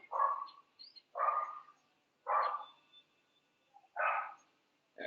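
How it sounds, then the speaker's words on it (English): A dog inside an apartment building barks in four or five separate gruff bursts about a second apart, moderately loud and slightly distant, with quiet pauses between. "I hear a dog."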